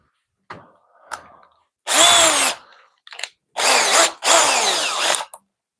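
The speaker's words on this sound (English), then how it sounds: "I don't want to drill into my table saw top." A power drill fitted with a 3/4 inch Forstner bit bores into wood, starting with a few light taps and then giving three loud, close bursts of whirring and cutting.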